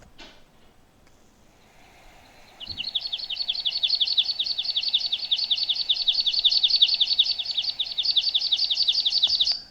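After a brief quiet start, a rapid, high-pitched series of thin chipping American pipit calls repeats steadily and fairly close, with no talking.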